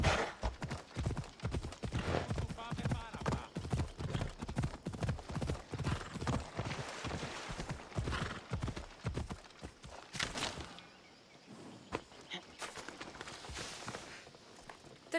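Horse hooves clip-clopping in Assassin's Creed Odyssey, a brisk run of sharp, close hoofbeats in quick rhythm that thins out toward the end, with a faint whinny.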